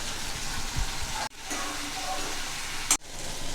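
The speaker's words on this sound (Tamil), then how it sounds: "தக்காளி வெங்காயம் நல்லா வதங்கிடுது." Tomatoes and onions sauté in a pan with salt, giving a steady close sizzle broken by two brief drops, plus a faint clink near the end.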